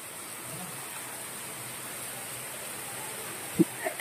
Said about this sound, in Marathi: बापरे केवढा पाऊस.